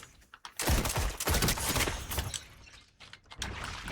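Dense rapid gunfire from a Destiny 2 PvP team fight, loud bursts of overlapping shots with brief pauses between volleys.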